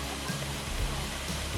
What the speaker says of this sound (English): The second waterfall is called the Viking waterfall